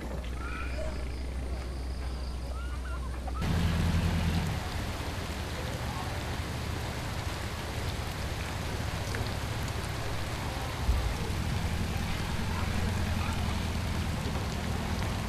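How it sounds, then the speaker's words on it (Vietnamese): Rain pours over the tangled canals of Ca Mau, a dense, even hiss of drops on water that swells louder after a few seconds and holds steady with a low rumble beneath, no voices. "những hạt mưa bắt đầu đổ xuống"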